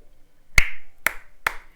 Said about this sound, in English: I heard a clapping noise